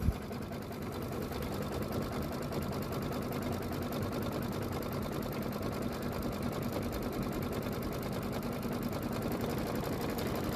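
A sewing machine stitches in one continuous run, a fast even whirring with rapid needle clatter, close and steady, at a low level.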